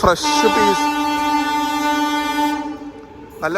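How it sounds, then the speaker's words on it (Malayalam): Train 13352, the Alappuzha–Dhanbad Junction Express, sounds a long, loud steady horn blast close by, holding for about two seconds before fading, with brief voices at the edges. "train number 13352 Alappuzha Dhanbad junction express"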